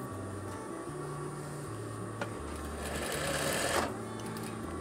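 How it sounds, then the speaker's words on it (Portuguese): A sewing machine stitches a seam on a veterinary coverall, running in short bursts of steady mechanical whirring that start and stop several times, close and moderately loud with a brief rustle of fabric. "porque aqui eu vou passar somente uma costura"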